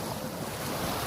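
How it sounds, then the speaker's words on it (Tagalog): Sea waves roll in at Magsaysay beach resort, a continuous near wash of surf mixed with wind buffeting the microphone, no speech heard. "Dagat."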